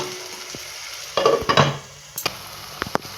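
Ginger garlic paste frying in a pan for a fish curry, with soft sizzling broken by a few sharp clattering stirs of a spoon against the pan.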